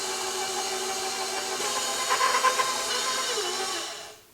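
A stand mixer fitted with a paddle attachment churns shortbread dough, a continuous motor whir with a faint rhythmic knocking in the middle before it cuts off at the end.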